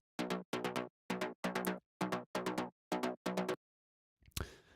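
Synthesized high bass patch built in Serum, short plucky stabs in a repeating syncopated rhythm, clean and punchy, followed by a brief noisy burst at the end.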